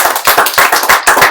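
A handful of people clap during a live stream, close and fairly loud, with quick, uneven claps overlapping in a short burst.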